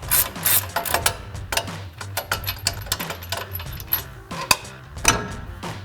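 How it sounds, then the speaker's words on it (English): Axle nut being spun off the front CV axle of a RAM 1500, a run of close metallic ratcheting clicks and light clanks with irregular rhythm, no talk. "And spin that nut off."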